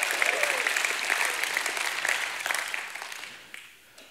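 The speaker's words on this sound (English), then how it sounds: "Someone give God a hand clap and a shout of praise." A church congregation breaks into applause and shouts of praise: dense, sustained clapping from a crowd, loud and close, fading out toward the end.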